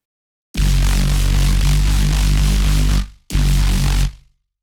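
Layered, filtered synth bass from a music production session plays as two loud sustained notes, a long tone followed by a shorter one after a brief gap, with deep low end and no voices.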